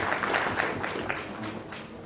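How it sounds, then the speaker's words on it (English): Audience applause greets a keynote speaker: moderately loud, continuous clapping spread across a hall, fairly faint and brief, with some murmuring underneath. "Please give Mr. Bailey a big round of applause."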